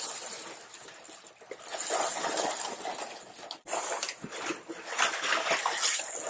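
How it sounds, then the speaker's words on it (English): Pre-rinsed expanded clay pellets pour into the top grow bed of a small aquaponic system, giving a continuous crackling, rattling cascade close by that surges and eases as the stream shifts. "We're going to pour the grow media into the top grow bed."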